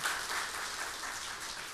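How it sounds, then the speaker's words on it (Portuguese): Applause at a solemn ceremony honouring a police patrol group, a brief, dense wash of clapping from a crowd, steady and moderately loud without any speech. "Mas é a Stallone, salva de palmas para ele."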